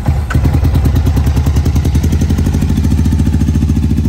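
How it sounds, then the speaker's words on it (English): A 2008 Can-Am Spyder Premier Edition engine just after a cold start in the morning at a dealership: a loud, close, steady rapid pulsing idle with a deep throbbing rhythm, heard alone. "Cold start early in the morning here at JM Honda Miami"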